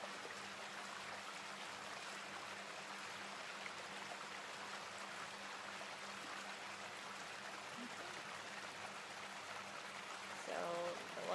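A stream flows steadily at a meditation spot in Phnom Penh, Cambodia, a faint, even rushing wash of water running without a break, with a brief louder burst near the end.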